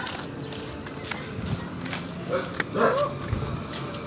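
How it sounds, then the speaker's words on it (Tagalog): A dog gives a couple of faint yips and whimpers amid outdoor background noise. "Oo, may aso."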